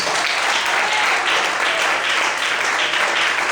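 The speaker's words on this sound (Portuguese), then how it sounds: "Mais fortes palmas." Louder, sustained clapping from a church congregation during a sermon, a dense, steady wall of many hands, close and full, holding evenly throughout with no talk over it.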